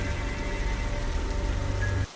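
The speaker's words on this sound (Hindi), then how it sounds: "गांव में बारिश तेज होती जा रही थी।" Heavy rain under a Hindi story narration, a dense steady roar of drops hitting the ground that stays loud and even throughout, then cuts off abruptly at the end.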